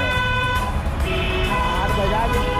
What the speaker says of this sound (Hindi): आज जोर हॉर्न बजाओ